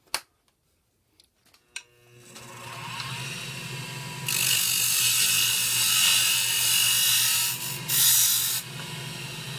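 A WEN lathe cuts tread into a toy wheel: a few sharp clicks, then a steady motor hum and a loud, hissing scrape of cutting that runs for several seconds with a brief surge near the end.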